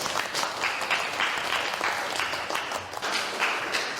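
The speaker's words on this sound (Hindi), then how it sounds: "चलिए जोरदार तालियों से अपने नए सहपाठी का स्वागत करें" Lively applause from a group, steady clapping that carries on for a few seconds without a break.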